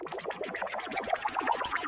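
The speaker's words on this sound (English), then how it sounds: "I use this bubble art from my kit that sounds like this." A bubble sound effect from a producer's kit plays as a rapid run of warbling, pitched bubbly blips with a processed, effected tone, steady and upfront for about two seconds.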